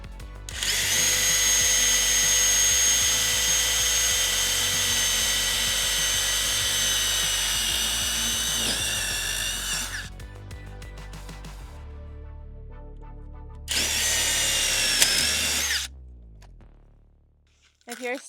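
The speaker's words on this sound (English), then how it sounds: "So we're gonna drill out some holes, rivet this on, and then install our towel rack holder." A power drill bores holes through an aluminum trailer door in a tack room, two long sustained whining runs separated by clattering handling noises, loud and close, with a brief pause before the second burst.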